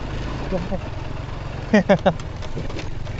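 A farm tractor engine hauling cassava on a mountain road along the Laos–Vietnam border rumbles low and steady throughout, with someone talking over it.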